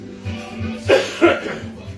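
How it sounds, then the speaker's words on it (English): Two harsh coughs close to the listener, over steady low background music with a thumping beat. "And I still got my cough."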